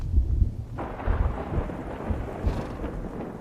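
Thunder rumbles before rain, with a deep rolling boom at the start, then a broad crackling roar that swells again near the end, with no voices.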